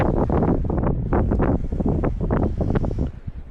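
Strong gusts of wind buffet the microphone in loud, rumbling surges, roaring unevenly in open ground beside the Garonne, tipping over bins, before easing slightly at the end.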